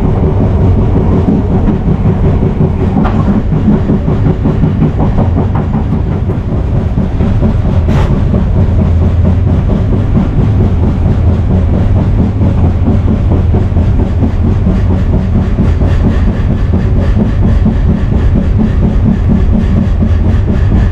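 An Airlangga economy-class passenger train on the Jakarta–Surabaya line rumbles loudly from inside the carriage, with a constant low roar, rattling and rhythmic clickety-clack of wheels on rails throughout.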